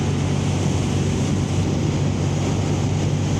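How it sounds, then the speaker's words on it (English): Strong wind blows outdoors, a steady, loud roar buffeting the microphone with deep low rumble and no break across the whole stretch. "this is windy out."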